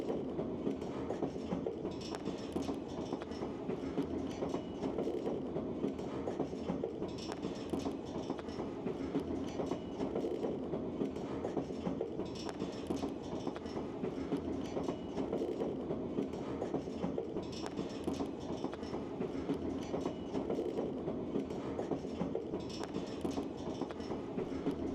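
Alaska Railroad passenger train rolling along the tracks, a steady low rumble with soft rhythmic clickety-clack of wheels over rail joints, heard from inside or near the cars at moderate, even volume throughout.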